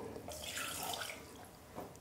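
Water is poured into a pan for making green tea, a soft splashing trickle close by, faint and brief, swelling and then tapering off with no speech.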